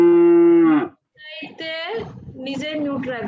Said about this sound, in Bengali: ভাই কার গরু ডাকে রে ভাই?